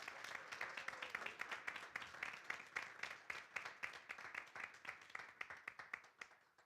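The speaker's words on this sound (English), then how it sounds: "All right, let's give them all a round of applause" An audience at a school board meeting breaks into steady applause, a dense patter of many hands clapping that holds for several seconds before tapering off.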